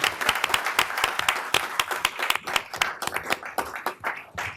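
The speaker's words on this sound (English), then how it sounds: "It deserves a round of applause." A small city council meeting audience applauds, with distinct individual claps in an uneven rhythm, fairly close and moderately loud, thinning slightly toward the end.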